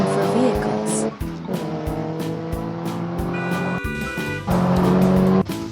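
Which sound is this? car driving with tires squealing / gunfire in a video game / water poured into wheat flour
car driving with tires squealing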